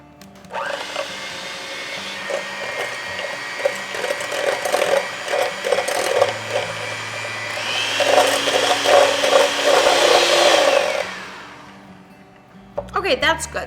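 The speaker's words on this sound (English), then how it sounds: "I'm gonna go ahead and beat these eggs up for a minute or so" Hand mixer whipping eggs for a key lime pie, starting low then rising to high speed; a steady whirring motor with a rattling beater chatter runs for about eleven seconds, then stops.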